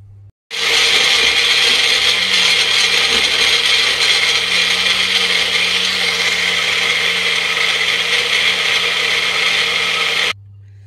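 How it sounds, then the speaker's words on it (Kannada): Mixer grinder blending green apple juice with water and salt, a loud steady whirring roar that starts abruptly, runs unbroken for about ten seconds and then cuts off. "ಇದೀಗ ನುಣ್ಣು ಗ್ರೈಂಡ್ ಮಾಡ್ಕೊಳ್ಳೋಣ"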